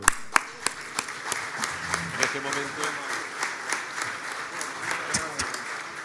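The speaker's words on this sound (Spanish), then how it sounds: "Y un fuerte aplauso, por favor." An audience at a business luncheon forum gives a loud, steady round of applause, with many hands clapping close together and a few sharper nearby claps standing out, while a voice talks briefly partway through.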